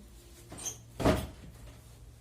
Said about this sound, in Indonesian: saya tutup pintu terlebih dahulu